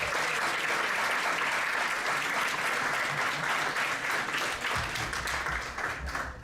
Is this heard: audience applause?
yes